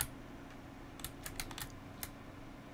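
Keys pressed on a PC keyboard while playing a farming simulator: a short burst of a few crisp, close clicks, closely spaced, with no talk.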